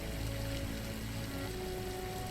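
Steady rain falls in a House of the Dragon scene, a constant dense hiss with a low musical drone beneath it and no pauses.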